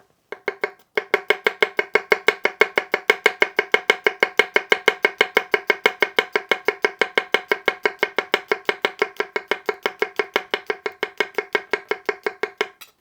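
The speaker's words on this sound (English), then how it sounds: "So let's say you need to thinly slice garlic. Using the tip of the blade in a tap chop motion is phenomenal with this knife." A bunka knife tap-chopping garlic into thin slices on a cutting board, a fast, steady run of crisp, evenly spaced taps lasting over twelve seconds with no talking.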